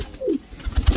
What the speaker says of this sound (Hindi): मेरे सब कबूतर वापस आ गए